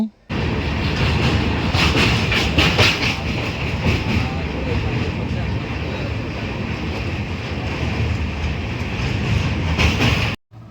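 A train rumbles steadily over a bridge across the Krishna River, a loud, continuous rolling roar with rhythmic clatter and wind buffeting the microphone, running nearly the whole time before cutting off.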